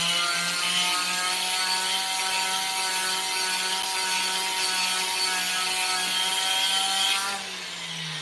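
Steady abrasive rubbing of 80-grit sandpaper porting the intake manifold of a Honda B18C Type R (P73 manifold), a continuous close scratching with a faint tonal hum underneath that drops off near the end.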